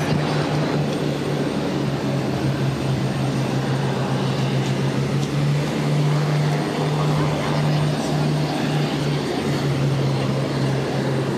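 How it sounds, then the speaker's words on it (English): A United airliner taking off from runway 22 right at Boston Logan: a steady, loud engine roar with a sustained low drone that fills the whole stretch without fading, with no clear speech over it. "United 2067, runway 22 right, clear for takeoff."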